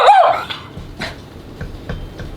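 A puppy lets out one loud high whimper and then quieter yips and soft thumps, heard indoors and close by, with no talking.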